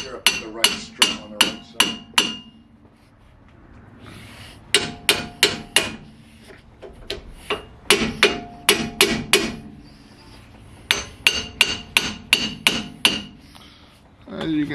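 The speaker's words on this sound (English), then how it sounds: "we're just slowly hammering this sucker around" Metal hammer blows driving a front suspension part into place on a Porsche 924, sharp ringing strikes in rapid bursts of several hits separated by short pauses, close and loud.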